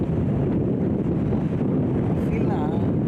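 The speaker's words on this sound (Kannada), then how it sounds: "ಆ ಅಲೆಗಳ ಸೌಂಡು, ಗಾಳಿ ಸೌಂಡು" Sea waves and gusting wind on the open shore at Dhanushkodi, a steady broadband roar with heavy wind buffeting on the microphone, continuous and loud throughout with no clear individual wave breaks.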